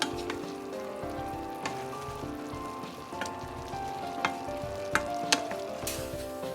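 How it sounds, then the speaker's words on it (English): Nikujaga simmering in a pot as it is stirred, giving a steady bubbling sizzle with scattered scraping clicks of the utensil against the pot, close and continuous with no voices. "open the lid and stir the pot"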